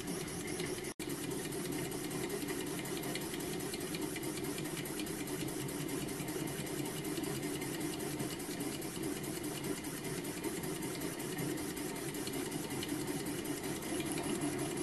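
A home-built rocking beam model steam engine made without plans, bolted down on one side to scrap steel, runs steadily with a continuous even mechanical chugging close up, alone with no talk.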